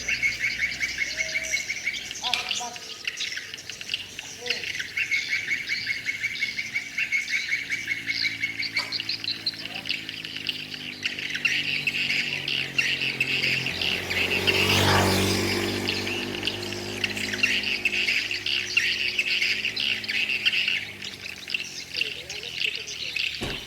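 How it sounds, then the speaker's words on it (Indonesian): Swiftlets calling around a swiftlet bird house, a thick chorus of high chirps and twitters that continues throughout while a passing engine swells and fades in the middle. "Jadi burungnya sangat banyak ya, yang datang dari segala penjuru"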